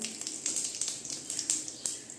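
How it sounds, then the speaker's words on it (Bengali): Whole cumin seeds dropped into hot oil left from frying garlic in a Bengali kitchen crackle with irregular sharp pops over a soft hiss, fairly quiet and close. "এই তেলে দিয়ে দিচ্ছি এই যে গোটা জিরা,"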